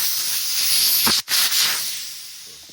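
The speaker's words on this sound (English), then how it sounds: "So you hear that tube flattening out completely." Air hisses steadily from a deflating bicycle inner tube during battery work on a VanMoof S3 e-bike, a continuous broadband rush that briefly cuts out partway before resuming and slowly tapering.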